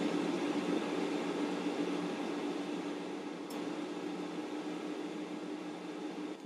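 A Ninja Foodi two-basket air fryer runs with a steady, close whirring fan hum and broad airy rush, holding an even level throughout with no voices.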